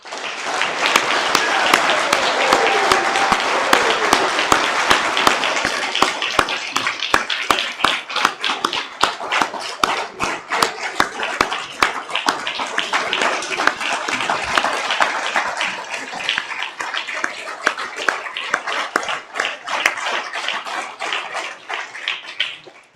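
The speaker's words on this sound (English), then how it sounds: "can we give this group one final collective round of applause?" Loud, sustained applause from a large crowd, dense clapping filling the whole stretch and thinning slightly toward the end.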